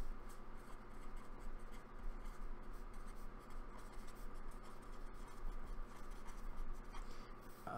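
Soft, continuous scratching of a pen writing on a wooden surface being prepared for woodburning, faint and close, with no talk.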